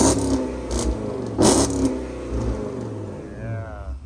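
Porsche Cayenne GTS engine and exhaust in sport mode, with short, throaty rev blips pulsing over a steady rumble before settling back toward idle.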